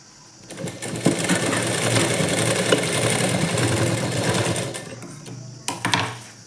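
A sewing machine runs steadily, stitching blouse sleeves, a fast close whirring hum that starts, holds for several seconds, then stops with a few short bursts at the end.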